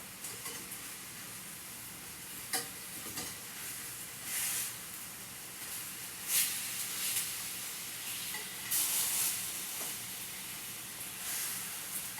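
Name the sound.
rosemary chicken frying in a pan as it is turned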